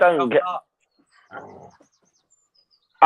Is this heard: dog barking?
yes